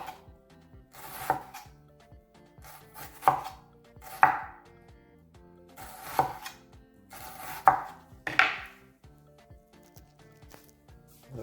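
A knife chops vegetables for Haitian pikliz on a cutting board, giving a few slow, distinct thunks spaced about a second apart, close and clear in a quiet kitchen.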